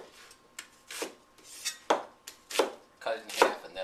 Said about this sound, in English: cut it in half, and then like thirds.